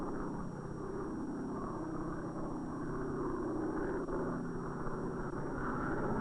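Propeller-driven observation, weather and instrument planes fly over the sea near an island base, a steady, continuous engine drone held at an even level throughout, with no talking.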